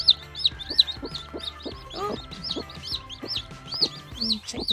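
Baby chicks cheeping in rapid, high repeated chirps close by, with a dog present and occasional clucking-like calls mixed in, no talk.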